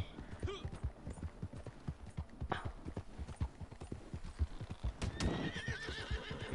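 A horse in the Red Dead Redemption 2 online game clip-clops along steadily and gives a sharp neigh toward the end, close and clear, with a faint voice in the background.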